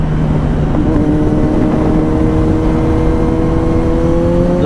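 A 2021 Kawasaki Z900 with an inline-four engine revs through its exhaust, a loud, close, smooth drone with steady rising tones and a dense rumbling low end held throughout, no talking.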